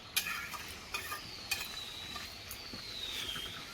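A spoon scraping around a pan of potato and papaya chhyachra, with soft regular scrapes and a faint sizzle underneath, heard close and quiet with no voices.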